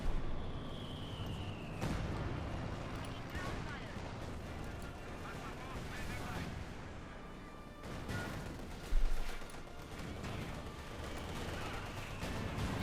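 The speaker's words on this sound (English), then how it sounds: "Guardsmen almost being wiped out by just all of the mortars there that Dots has" Mortar barrages pound away in a Company of Heroes 2 match, repeated booming impacts and gunfire layered throughout with a sharp louder blast near the nine-second mark, under a steady battlefield din.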